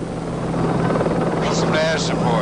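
Helicopter in flight from the film Blue Thunder, a loud close steady rotor drone under a voice, with brief higher tones near the end.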